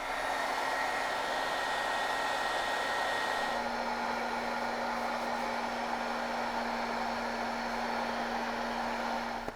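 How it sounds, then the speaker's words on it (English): A heat gun blows on a foam dandelion stem to soften it for bending, giving a steady, close, loud whooshing roar with a slight shift in tone partway through and no talking. "I'm gonna hit it with a heat gun and bend it just a little bit"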